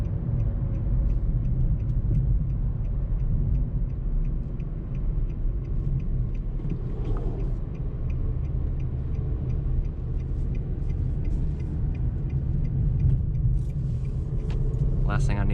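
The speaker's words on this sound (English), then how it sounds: "I'm gonna hit a back road. We're gonna hit some corners and see how she handles." A 2022 Nissan Versa S with a five-speed manual gearbox drives along a back road, its steady low engine and road rumble filling the cabin continuously, with faint rattles and a person talking over it.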